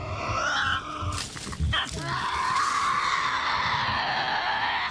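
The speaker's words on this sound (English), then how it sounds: "Even the Tassie's shrieks help them feed and hunt." Tasmanian devils let out harsh, rasping shrieks and screeching cries, loud and continuous and layered over one another.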